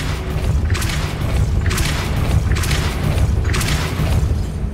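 A Depulso spell blast from the Hogwarts Legacy video game, heard as four loud repeated whooshing bursts about a second apart over a constant deep rumbling game soundtrack.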